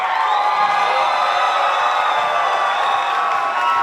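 A studio audience at a contest show cheers for a contestant, a dense high-pitched roar of screams and whoops that holds steady and loud from start to finish.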